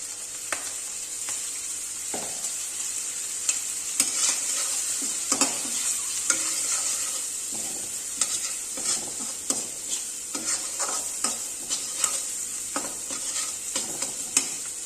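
Onion, carrot and green peas stir-fried with salt and turmeric in a home kitchen pan: a continuous sizzle broken by frequent scraping and clacking strokes of a spatula, fairly quiet and steady, with no voices.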